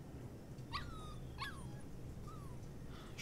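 A dog in the video game Life is Strange 2 whimpers in three short, high, falling whines; the first two come close together and the third is softer, heard fairly quietly over a steady low background hum with no talk.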